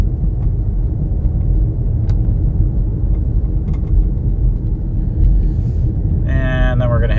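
A Mustang Mach-E electric car drives uphill, a loud steady low road rumble with faint tonal whine near the end.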